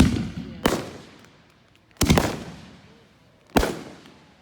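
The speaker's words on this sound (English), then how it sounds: "Watch the fireworks." Fourth of July fireworks burst in three sharp, loud booms spaced about a second and a half apart, each followed by a long rumbling echo that trails off between explosions.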